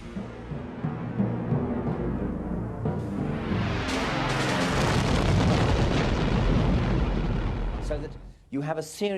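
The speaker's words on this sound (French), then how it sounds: "Cet engin émettait un bourdonnement et un grondement reconnaissables et inoubliables quand il se déplaçait dans l'air." A loud, rough, pulsing roar from a V1 flying bomb's pulse jet engine builds and drones on for several seconds, then cuts out abruptly, followed by a brief voice.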